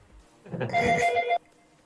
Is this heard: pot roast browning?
no